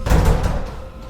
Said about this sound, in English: I jerked the door open.